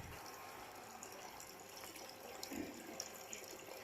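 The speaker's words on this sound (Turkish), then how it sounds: "içinden su geliyor" Water from a recirculating clay pot fountain, pumped up by a motor, pours in a steady, soft trickle that runs without pause, fairly faint and with no voices over it.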